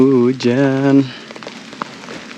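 Heavy rain falls during a mountain hike up Prau via Dieng, a soft, continuous patter that takes over after a person speaks briefly at the start.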